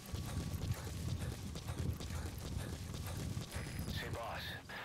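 Horse hooves clip-clopping in Metal Gear Solid V: The Phantom Pain, a steady rhythmic trot of close hoofbeats, with faint game effects rising near the end and no talk.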